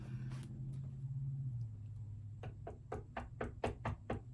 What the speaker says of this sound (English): That's when there's a knock at the door.